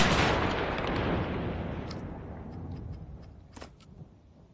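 A semi-automatic rifle shot in the WWII shooter Enlisted opens loud and booming, then decays into a long rolling tail with a few faint clicks and distant reports.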